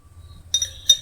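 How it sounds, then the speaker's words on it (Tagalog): A glass container for storing condensed milk clinks twice, two short bright taps close by over a faint low background hum. "Nilalagay ko dito sa babasagin kasi yung lata baka masira"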